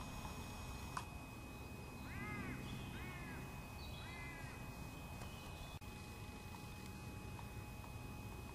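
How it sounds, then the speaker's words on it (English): A raven calls from far off near a waterside fishing spot, a few hoarse croaks spaced over several seconds, faint above a steady outdoor background hiss. "And I've just heard a raven calling in the distance."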